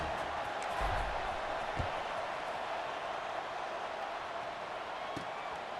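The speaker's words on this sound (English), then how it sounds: "this crowd is buzzing after that last score" A stadium crowd in EA Sports College Football 26 hums with a steady, moderately loud murmur after a score, with an occasional faint thump.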